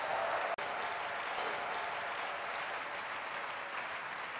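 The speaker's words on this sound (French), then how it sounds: "Est-ce qu'on ne peut pas donner une bonne acclamation au Seigneur pour ça?" A church congregation claps in broad, steady applause for the Lord, a dense, even roar of many hands held from start to finish.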